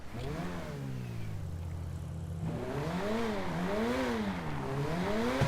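A modified car in GTA 5 revving hard, its engine pitch climbing and falling in repeated waves after a steady idle, loud and close with no talk over it.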